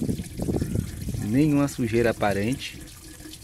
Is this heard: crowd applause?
no